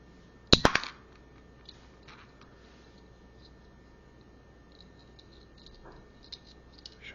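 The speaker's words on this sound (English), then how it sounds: "There's a little trigger element on the bottom here. I'll just shoot it into my hand." A LEGO Boba Fett buildable figure fires its trigger-launched weapon in one sharp, close plastic snap and clack at the start, then near silence with a few faint ticks.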